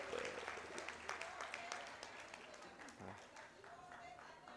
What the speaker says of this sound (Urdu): میرے خیال میں ایک بار اور تالیاں ہو جائیں رحمت شاہ ساحل صاحب کے لیے